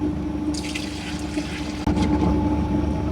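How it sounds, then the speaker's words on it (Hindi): Six cups of water pour into a cooking pot for vegetable pulao, a steady close splashing stream that carries on throughout with a short break partway. "यहाँ पे 6 कप पानी ऐड कर दिया"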